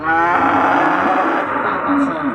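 A thin, underweight cow gives one loud, close, drawn-out moo that fills the whole moment, with no talk over it.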